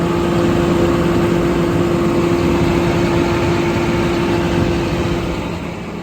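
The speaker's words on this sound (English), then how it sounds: "You can hear the PTO idle up." 2012 International 4400 Autocrane crane utility diesel truck with its PTO engaged, the engine idling up to a steady, droning hum with a constant low tone that holds loud throughout and eases slightly at the end.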